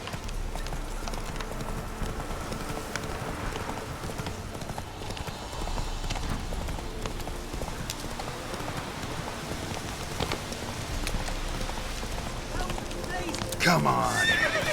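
The horse in The Witcher 3: Blood and Wine gallops with steady clip-clop hoofbeats and whinnies, with rain falling throughout and a brief louder burst near the end.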